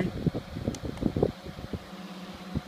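A fan runs inside a homemade egg incubator, giving a close, uneven whirring rush with fluttering low pulses and bursts of air noise.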